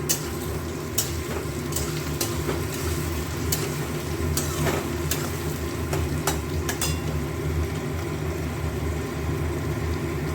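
Ginger and green chilli frying with a spice paste of ground coriander, cumin, turmeric and Kashmiri chilli, a loud continuous sizzle up close with occasional sharp ticks of a spatula stirring the pan, no voices.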